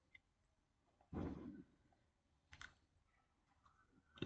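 A few sharp clicks of a computer mouse, spaced apart and fairly close, with a soft one near the start and others after a second and again near the end, over a quiet room.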